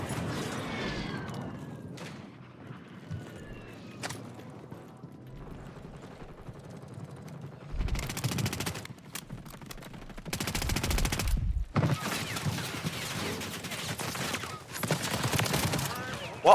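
Video game gunfire in a squad battle royale round, with an Uzi and WSP-9 in play: bursts of rapid automatic shots come in clusters, loudest in the second half, under scattered team chatter.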